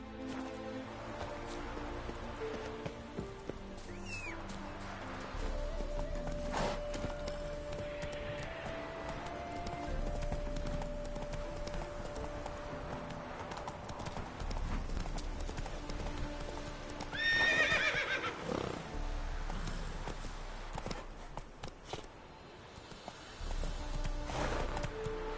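Geralt's horse Roach in The Witcher 3, hooves clip-clopping steadily at a gallop with occasional neighs and whinnies, close and moderately loud over game ambience, with a brief voice nearby.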